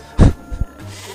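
Sheep bleating in the Medievil Resurrection video game: one loud close bleat followed by a couple of short, quieter bleats, with no talk over it.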